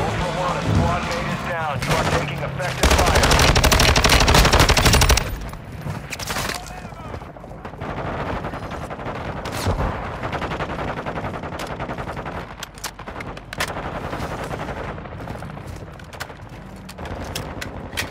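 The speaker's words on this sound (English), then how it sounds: "You are taking effective fire." Automatic weapon fire from the Call of Duty Modern Warfare II DMZ video game, with a dense, loud burst of rapid shots early on, then scattered shots and bursts continuing under radio-style voice callouts.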